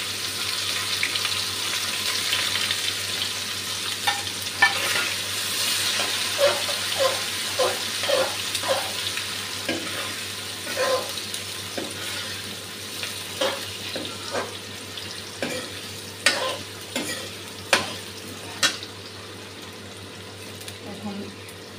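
Onion fries in oil with a little sugar for mutton curry, a constant sizzle under a low steady hum, broken by repeated sharp scraping stirs and clinks that grow more spaced toward the end.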